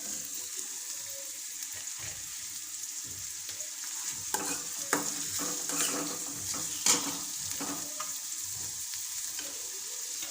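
Chopped onions sizzling in hot oil for homemade Maggi noodles, a steady close frying hiss with occasional stirring scrapes and no voices.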